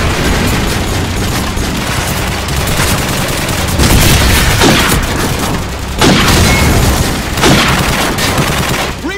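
Rapid gunfire bursts and booming shots from Call of Duty 4 multiplayer, loud and dense throughout with brief swells of heavier explosive hits.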